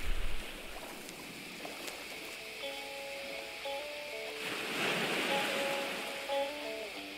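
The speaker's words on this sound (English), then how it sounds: "The surf, the waves," Surf and waves wash in a steady broadband hiss at the start of a song intro, swelling midway while soft sustained guitar-like tones enter above the water sound.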